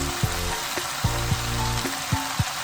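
Potatoes and bitter gourd, salted, fry in a pan with a steady sizzle, while a few sharp knocks of stirring spoon against the pan break through at irregular intervals.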